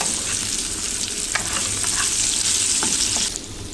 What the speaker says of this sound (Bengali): আর এই পাশ দিয়ে দেখুন আমি আলু ভেজে নিচ্ছি